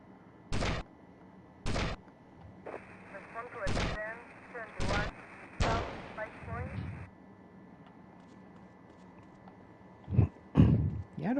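Gunfire in GTA Vice City: five sharp, loud shots spaced about a second apart, a short game voice or engine-like tone running under them, then two more bursts near the end.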